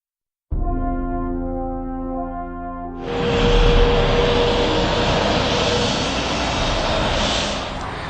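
Airplane at Exeter International Airport, a steady tonal engine hum that gives way to a loud, broad jet roar, sustained and fairly close for several seconds, with no talking.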